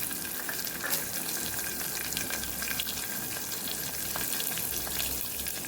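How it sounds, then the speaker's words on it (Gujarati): Green chilies sizzle in hot oil with mustard seeds, cumin and asafoetida, a steady soft crackling fry with a few faint stirring clicks, close and without voices. "અહીં આપણે લીલા મરચાં ઉમેરી દઈશું"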